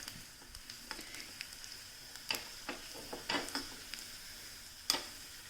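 Orange peels roasting in a pan, heard as a faint, quiet sizzle with scattered light ticks and a few sharper clicks from stirring, no voices.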